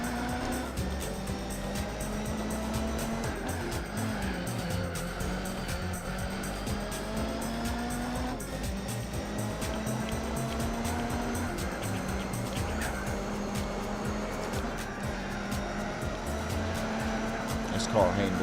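An Audi in Gran Turismo 4 drives steadily, its engine tone rising and falling through gear changes for the whole stretch, with people talking over it.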